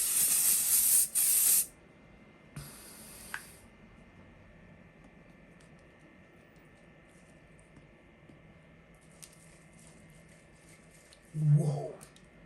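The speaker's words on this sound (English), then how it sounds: "I'm going to use this in the X, or I'll just spray like this zigzag." Two bursts of mattifying waterproof makeup fixing spray, a loud hissing spray in the first moment and a shorter one a little later, followed by quiet room tone and a brief voice near the end.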